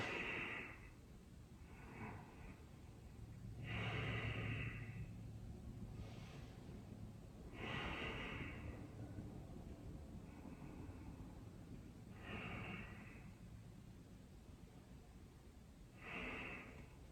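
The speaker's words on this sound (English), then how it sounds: "we'll take a couple breaths here" Slow, deep breaths taken in a yoga back-stretch pose, each long inhale and exhale rising and falling in a steady rhythm close to the microphone over a soft background hiss.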